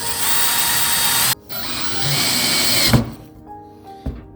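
A power drill whirs steadily for a few seconds as it drives screws into a wall to mount a Zalerock round hook, then stops, followed by a couple of light knocks and clicks.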